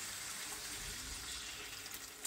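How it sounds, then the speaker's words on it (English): About half a cup of boiling water pours in a steady, close hissing stream for a couple of seconds, splashing softly into a pan of goulash. "don't forget to add water. It's about half a cup of boiling water."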